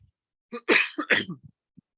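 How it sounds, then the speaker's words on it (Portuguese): A single rough, harsh cough bursts out loud and close, with a throaty rasp in a quiet room and a faint catch of breath trailing after it. "A tosse tá feia."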